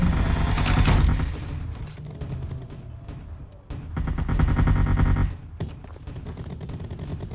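A machine gun sentry turret firing in Artificial Extinction: sustained rapid automatic fire that swells louder, dips briefly, then surges again, with booming impacts layered over the continuous rattle.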